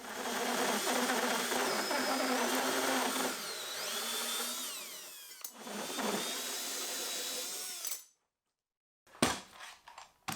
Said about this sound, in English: I am not a fan of hole saws.